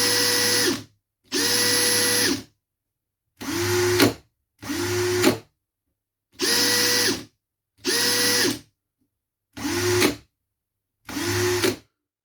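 An Evolution R13CMB 18-volt cordless combi drill runs in eight short bursts of one to two seconds each, separated by silence, with a whining motor tone that rises at each start. The drill is close and loud, and no one speaks.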